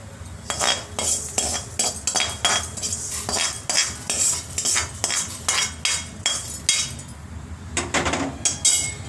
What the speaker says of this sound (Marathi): हे आता आपण काढून घेऊया एका डिशमध्ये